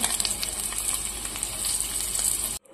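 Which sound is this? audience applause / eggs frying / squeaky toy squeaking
eggs frying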